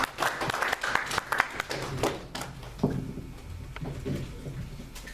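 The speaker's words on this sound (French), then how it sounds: "Acclamons pour Jésus-Christ." A church congregation applauding in praise of Jesus Christ, a burst of dense clapping that thins out into scattered claps and room noise after a couple of seconds.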